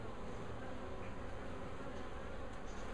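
A honeybee colony in comb being cut out of a condemned building hums in a dense, continuous buzz, loud and steady throughout, with no voices.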